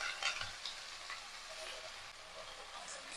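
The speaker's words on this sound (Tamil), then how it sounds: "இங்கே வந்ததும் நம்ம கழுவி எடுத்து வச்சிருக்கேன் கீரையை சேர்த்துக்கலாம்." Washed greens hitting a hot pan of frying mustard seeds, urad dal and shallots, giving a steady, fairly quiet sizzle and crackle with faint stirring throughout.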